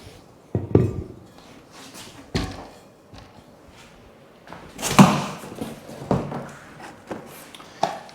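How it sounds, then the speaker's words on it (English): Small metal bolts knock and rattle inside a cardboard toilet kit box as it is handled, giving a series of irregular close thumps and clinks with quiet pauses between them. "there's a bolt kit in there I can hear too, it sounds like"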